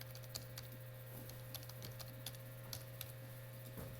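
Quiet typing on a computer keyboard, a steady scatter of light key clicks at close range over a constant low electrical hum.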